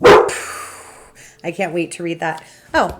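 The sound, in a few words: dogs barking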